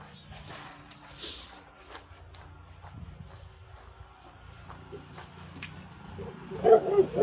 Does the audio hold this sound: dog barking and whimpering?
yes